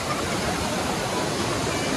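Cold water rushes steadily at Fethiye, Turkey, a dense, even hiss of flowing water that holds at the same level throughout, with no voices.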